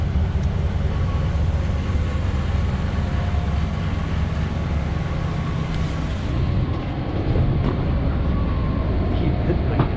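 A train in Japan's Tohoku region rumbles along in steady, loud interior noise, a continuous low roar with rail clatter and faint high squeals, heard from on board.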